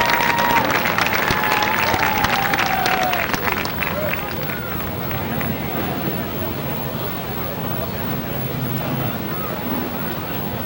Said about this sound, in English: how about a big round of applause from Westford, Mass. In victory lane, Randy Wickham